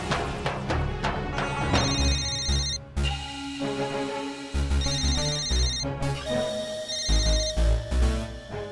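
A phone ringtone plays as a bright, repeating melodic tune with punchy beats, looping several times at steady volume with no talking over it.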